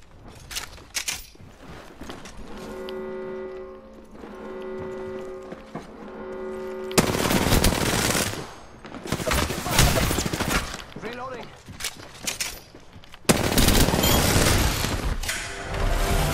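Gunfire in the video game Apex Legends comes in loud bursts of rapid shots and booming impacts, alternating with quieter stretches of game sounds, with a voice talking intermittently over the action.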